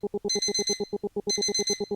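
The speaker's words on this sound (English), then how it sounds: "The alarm cuts through our banter. It's ringing, making me wince." An alarm clock rings in rapid, evenly spaced electronic beeps, bursts of bright tones pulsing in two clusters, loud and close with no other sound.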